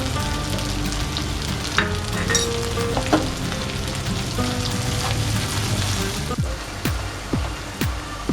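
Chopped onions and salt frying in a pan for khichuri, a close, steady crackling sizzle that runs throughout, with a few light clinks of a utensil near the end.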